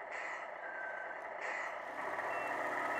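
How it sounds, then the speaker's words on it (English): The Tamiya multi-function control unit in an RC truck gives off repeated electronic reversing beeps, a regular high-pitched pattern at a steady level with no talking. "So you can hear the reversing beeps."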